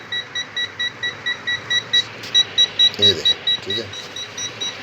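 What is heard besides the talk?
multimeter beeping on DC current test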